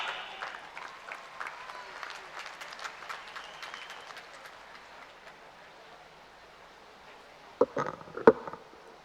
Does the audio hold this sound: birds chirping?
no